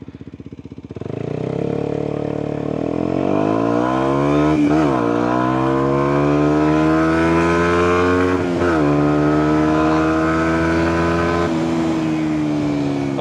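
Kawasaki Ninja 125 motorcycle pulling away in first gear, its engine note climbing steadily from low revs to a high, buzzing whine, with brief dips, loud and close with no talk.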